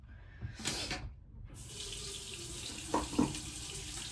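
Tap water running into a sink during handwashing, a steady broadband rush with brief splashes and a couple of louder gushes near the end, close by with no talk.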